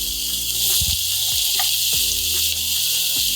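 Seasoning sizzling in melted butter in a pot on a stove for Jamaican-style steamed fish, a steady bright hiss of frying with soft stirring knocks and scrapes underneath, close and continuous.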